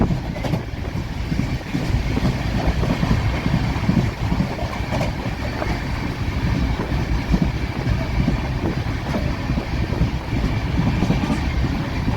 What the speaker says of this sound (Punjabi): ਟ੍ਰੇਨ ਆ ਕੇ ਰੁਕੀ ਆ ਜੀ ਕਿਲਾ ਰਾਏਪੁਰ